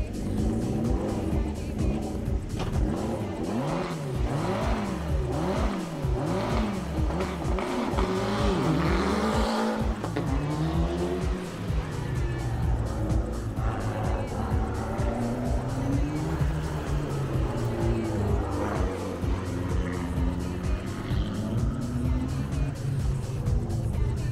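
Historic rally cars race on a special stage at the Rallye du Chablais near Champéry, engines loud and close, revving hard and shifting repeatedly with rising and falling pitch, with tire noise and a voice talking faintly underneath.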